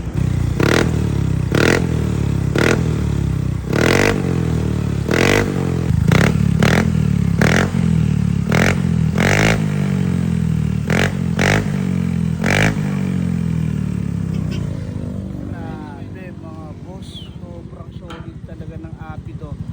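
A Yamaha Mio Gear scooter fitted with an Apido exhaust pipe, running loud and close with a string of sharp throttle blips over a steady idle, the revving easing off toward the end.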